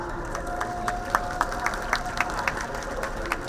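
An audience at a Sattriya cultural Raas Leela performance claps, a dense, steady patter of many hands with a few sharper individual claps standing out.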